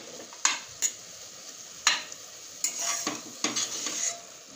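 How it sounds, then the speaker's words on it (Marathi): Carrot halwa being stirred in a pan as milk is mixed in: a few sharp scrapes and clinks of a spoon against the pan, with soft sizzling between strokes, close and fairly quiet. "ते एकदम सगळं मिक्स करायचं."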